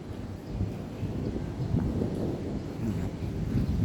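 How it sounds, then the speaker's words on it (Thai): Wind gusting outdoors at an evening market, a low rumbling buffet across the microphone that rises and stays rough and fairly loud throughout, with faint voices underneath. "ลมพัดเย็นดีครับ ตอนนี้ย่ำเสาๆนี่ลมยังพัดเย็นดีอยู่"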